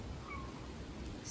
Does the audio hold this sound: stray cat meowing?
yes